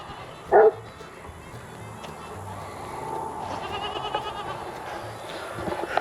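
A single loud goat bleat cuts in near the start, then quieter rustling and distant farmyard sounds of chicks follow.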